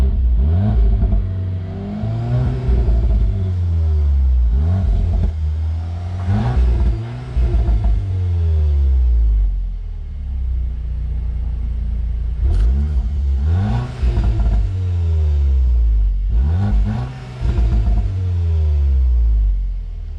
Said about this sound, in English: Now I'm going to be showing you some exhaust revs.